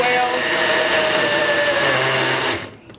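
Kim's NutriBlast blender motor runs with a loud, steady high whine that winds down and stops near the end.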